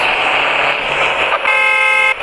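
A steady electronic car horn in the video game Madout2 blares continuously, loud and close, with a brief break near the end, over a constant engine hum.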